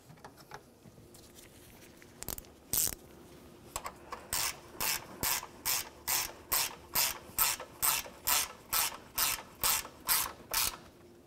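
A hand ratchet snugs up the radiator mounting bolts on a 2004-2015 Nissan Titan, giving about twelve even, crisp clicking bursts in a steady rhythm, close and clear, after a few scattered knocks and no talking.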